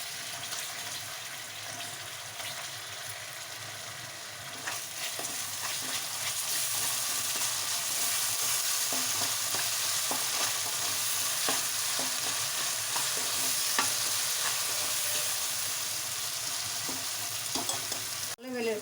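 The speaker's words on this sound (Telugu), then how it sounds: "అల్లం వెల్లుల్లి పేస్ట్ ఒక స్పూను పచ్చివాసన వాసన ఫ్లేవర్ ఫ్రై చేసుకోవాలి" Ginger garlic paste frying with onions in a pan for a capsicum potato fry, a steady close sizzle with occasional stirring scrapes, growing louder after the first few seconds and continuing unbroken with no talk.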